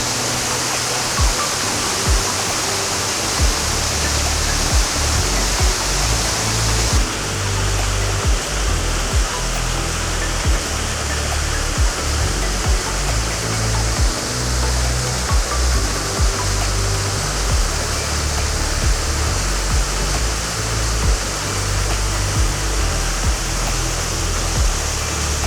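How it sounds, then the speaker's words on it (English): Steady, full roar of a waterfall on a forest nature trail near Nairobi, broad rushing water continuous and close for the whole stretch with no voices. "I love the calming sounds from waterfalls."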